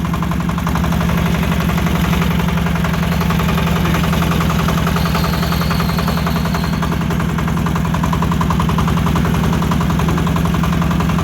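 A small tractor engine chugs loudly and steadily up close, its rapid thumping rhythm unbroken throughout with no talking.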